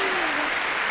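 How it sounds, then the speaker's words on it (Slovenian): An audience applauds the soloists at a symphony orchestra concert for a cultural holiday, a dense, steady wash of clapping filling the hall. "lahko jim zaploskate vsakemu posebej"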